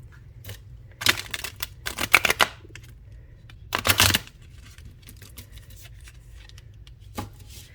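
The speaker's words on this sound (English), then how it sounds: "let's get a good shuffle." A tarot deck being shuffled by hand, with short bursts of riffling card clicks at irregular intervals, close and crisp, separated by quiet pauses.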